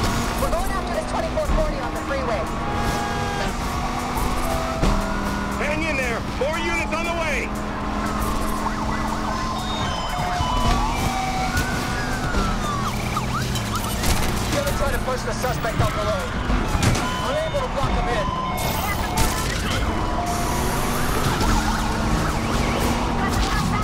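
Police sirens wail through a high-speed chase in the racing game NFS Unbound, rising and falling steadily over continuous engine roar and in-game noise, with speech layered on top throughout.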